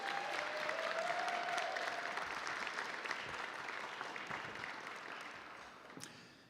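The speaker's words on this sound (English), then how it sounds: "I have a round of applause for your president," Sustained applause from a gala audience for a college president at an alumni association fundraiser, a dense steady wash of many hands that slowly tapers over several seconds, with a brief whistle early on.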